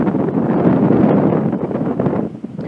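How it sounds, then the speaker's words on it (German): Strong wind beside a railway line in Rosenbach buffeting the microphone in loud, continuous rumbling gusts, with no voices. "Ja Leute, es ist mega windig"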